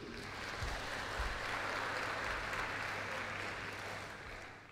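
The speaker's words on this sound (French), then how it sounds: "que je vous demande d'applaudir, s'il vous plaît" An audience at an Ebola song contest event in Guinea applauds an artist, a broad, even wash of clapping from a large crowd, heard somewhat distant and sustained throughout.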